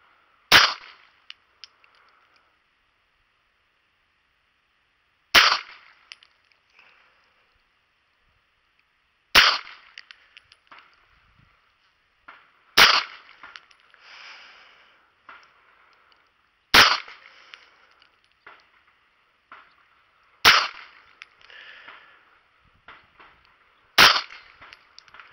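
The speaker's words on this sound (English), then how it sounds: "I've never shot a semi-automatic pistol like this." Semi-automatic pistol fired as single sharp shots at a range, seven loud cracks spaced several seconds apart, each followed by brief faint clatter in the quiet between.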